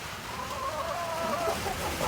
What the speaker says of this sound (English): There's my girl, my chicken Hannah.